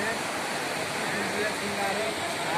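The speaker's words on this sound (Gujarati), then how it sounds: "આટલી નદી છે, ફૂલ પાવા નદી" A full-flowing river near Badrinath temple rushes in a loud, unbroken roar of water, steady and close throughout.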